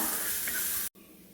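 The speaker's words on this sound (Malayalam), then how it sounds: "ഇവിടെ നമുക്ക് ഇഞ്ചിയും വെളുത്തുള്ളിയും കൂടെ ചേർത്ത് കൊടുക്കാം അതൊന്ന് നന്നായിട്ട് വഴറ്റിയെടുക്കുക" Ginger and garlic sautéing in a pan while cooking a toddy-shop-style fish head curry, with a loud close sizzle and hiss that cuts off abruptly, then a quieter hiss continuing briefly.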